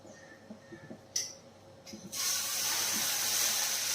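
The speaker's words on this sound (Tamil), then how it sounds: "தோசை ஊற்ற போகிறேன்." Ragi dosa batter poured onto a hot pan: a few soft dabs and drips, then a sudden loud, steady hiss of sizzling that continues to the end, close up with no talking.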